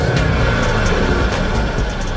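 Jaguar XF with a 5-liter naturally aspirated 385-horsepower V8 revving, a loud, dense engine roar held steady and close for a couple of seconds with a deep rumbling low end.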